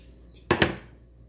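A knife slices through an egg and green onion omelette on a cutting board, giving two quick, close knocks against the board in an otherwise quiet room.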